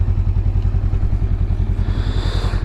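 A loud motorcycle exhaust at idle, a deep rapid lumpy burble with rhythmic pulses, close and constant, with a slight hiss creeping in near the end.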